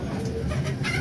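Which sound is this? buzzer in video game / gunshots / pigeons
pigeons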